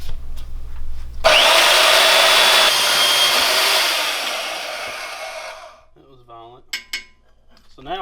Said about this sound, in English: why don't we cut this up on the bandsaw?